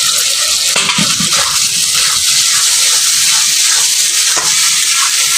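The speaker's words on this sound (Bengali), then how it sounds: "এখন আমি দিয়ে দিলাম ভেজে রাখা আলুগুলোকে।" Loud, steady sizzling as fried potatoes hit spice paste in a hot pan for a Bengali fish recipe, with a few stirring scrapes and clatters breaking through the continuous frying hiss.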